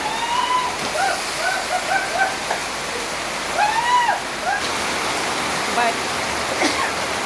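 Steady heavy rain hiss fills the background throughout, with bird calls chirping over it in short bursts.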